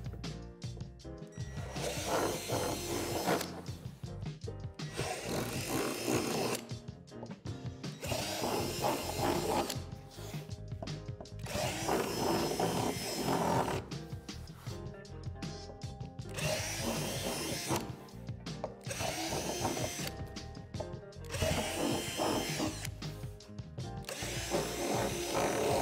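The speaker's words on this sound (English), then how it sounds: "drill out the 4 divots on the back side of the Rockwall panels" A power drill bores out the four molded divots on the back of plastic rock wall panels for a backyard playset, running in repeated loud bursts with brief pauses between holes.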